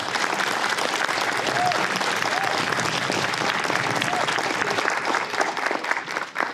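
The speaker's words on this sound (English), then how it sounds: "Let's give another warm round of applause for Janiyah from Point South Middle School" An audience at a literary competition reception gives a warm round of applause for a middle school student reader, a dense, even wash of clapping sustained for several seconds before tapering slightly at the end.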